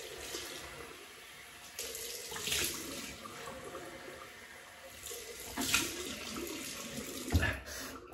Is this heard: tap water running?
yes